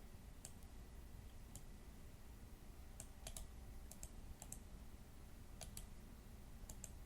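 Sparse, quiet keystrokes on a computer keyboard while a Linux directory path is typed, single taps and short clusters of clicks set against a steady faint hum.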